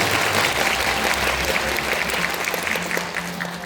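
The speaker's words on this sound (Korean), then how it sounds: "박수 부탁드립니다." Steady applause from an audience at a peace-themed music and talk concert in a hall, dense clapping filling the whole stretch at an even, moderately loud level with a faint crowd murmur beneath.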